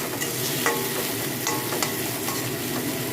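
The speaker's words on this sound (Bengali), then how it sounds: "কিচ্ছু ফোড়ন দিচ্ছি না, কুচি পেঁয়াজটা কড়াইয়ের মধ্যে দিয়ে দেবো।" Chopped onion fries in a kadai with a steady, close sizzle, broken by a few sharper stirring scrapes.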